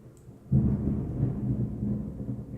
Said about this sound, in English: You could hear thunderstorm going on right now, folks.